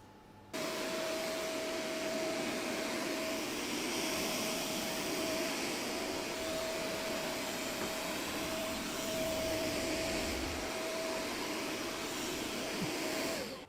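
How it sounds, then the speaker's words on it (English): A SwitchBot S10 robot vacuum cleans the floor with a steady, loud whir and a constant high whine that holds unbroken for the whole stretch, then cuts off at the end. "now that we've finished vacuuming"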